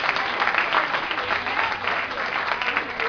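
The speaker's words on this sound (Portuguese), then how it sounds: "um forte aplauso ao nosso Senhor Jesus Cristo" A church audience breaks into sustained applause, a dense wash of hand claps filling the hall at a steady level for a few seconds.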